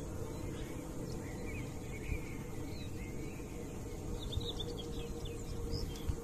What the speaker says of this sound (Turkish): Burada güzel kuş sesleri vardı.